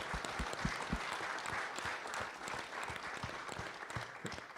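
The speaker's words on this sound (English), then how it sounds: "So just one more round of applause for Tim for everything he's done." A round of applause from an audience at a college sport management alumni symposium, steady dense clapping filling the room for several seconds at moderate volume, with a faint voice underneath.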